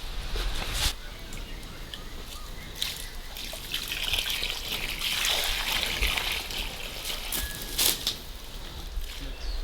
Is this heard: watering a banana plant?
yes